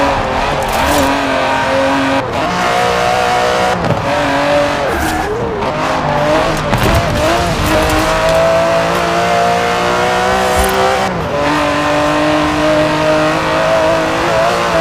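An Aston Martin DB11 with a 5.2-litre twin-turbo V12, driven in Forza Horizon 4, roars steadily and loudly throughout, with rising revs, gear changes and brief tyre squeals and skids.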